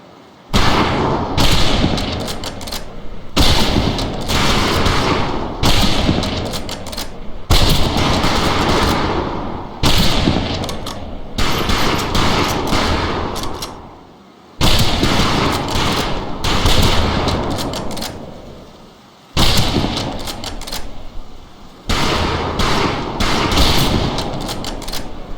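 Rifle fire at a shooting range in the Medal of Honor: Pacific Assault video game: loud, sustained volleys of gunshots from several shooters, coming in long bursts separated by short pauses.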